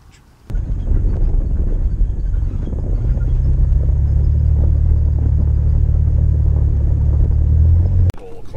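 An off-road Jeep on a Las Vegas tour climbs rocks with a loud, steady engine rumble and a deep low drone that holds for several seconds before cutting off abruptly.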